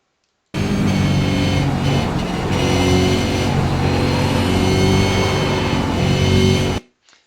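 A race car engine holding fourth gear through a corner on a racing circuit, a loud, steady, close drone that starts abruptly and stops just as suddenly about six seconds later.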